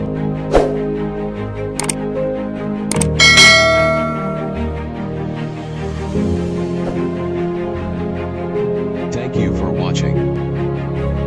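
A bright bell ding rings out a few times in quick succession near the start, followed by sustained tonal music under continuous talking.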